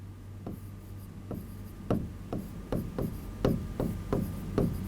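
Chalk writing a definition on a board during a chemistry lesson, a series of distinct tapping, scratching strokes in an uneven rhythm, growing slightly more frequent, close and clear over a low steady hum.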